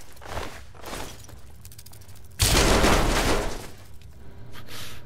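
Gunfire in the video game Fallout 3, a sharp loud blast bursting out mid-clip and decaying over about a second, between quieter clicks and mechanical rattles.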